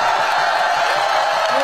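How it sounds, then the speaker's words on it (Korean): Crowd at an outdoor presidential election campaign rally in Bucheon cheering and applauding, a loud continuous roar of voices and clapping throughout. "시민 여러분, 큰 함성과 박수를 보내주시기 바랍니다"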